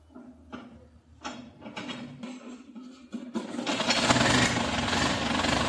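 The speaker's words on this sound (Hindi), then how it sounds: "ट्रैक्टर को स्टार्ट करता हूँ हैंडल से।" Slow, labored mechanical chugs as a tractor engine is hand-cranked, then catches and roars into a loud, steady running clatter.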